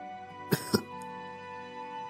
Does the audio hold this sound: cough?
yes